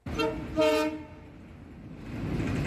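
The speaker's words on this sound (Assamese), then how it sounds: "জীৱনত ট্ৰেইন দেখা নাই নহয় প্ৰথম দেখিলোঁ সেইকাৰণে ট্ৰেইন" Train near a railway bridge, sounding a loud horn in two close blasts, then a quieter rumbling rolling noise that builds again toward the end.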